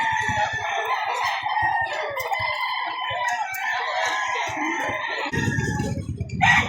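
A white Kelso rooster crows loudly and close by in a long drawn-out call, followed by a burst of throaty clucking near the end.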